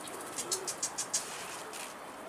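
Turkish flying pigeons give a brief series of about six soft, evenly spaced pulsed calls, faint against a steady outdoor hiss.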